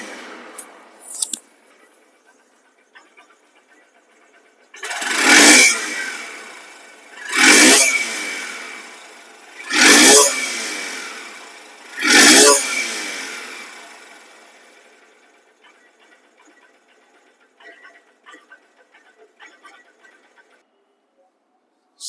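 A second-hand 2024 Honda SP Shine CBS motorcycle engine being revved: four evenly spaced throttle blips rise and fall from a quiet idle, close and loud, with brief stillness before and a faint idle trailing after.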